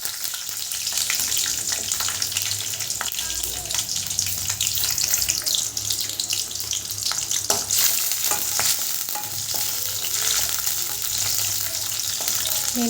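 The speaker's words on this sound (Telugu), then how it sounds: "అన్నీ వేయించుకొని పక్కన తీసుకోండి" Ingredients for a chutney fry in a generous amount of oil in a pan, a steady dense sizzle with occasional stirring clatter and a faint running-water sound, continuous and fairly loud throughout.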